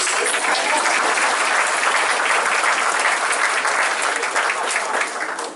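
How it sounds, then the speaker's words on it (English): Sustained audience applause at a church teaching session, steady dense clapping filling the whole stretch at full loudness before tapering slightly at the very end. "You have to clap for her too because she's wonderful too"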